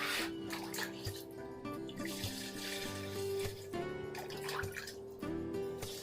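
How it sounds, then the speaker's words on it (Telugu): Water pours steadily into a home aquarium, a continuous close splashing and trickling stream with a faint hum beneath it and no one talking. "ఇప్పుడే వాటర్ పోసుకుంటున్నాం"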